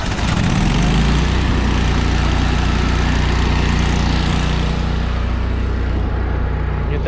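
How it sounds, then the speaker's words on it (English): An engine-driven welder runs close by with a loud, steady low-pitched engine drone that starts up at the outset and holds evenly throughout, with no talking. "we're gonna get our welder turned on"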